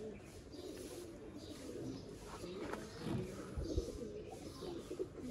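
Sialkoti pigeons, a silky-feathered pearl-eyed breed, coo softly in a few low murmuring bursts amid steady background hiss, with a faint voice underneath.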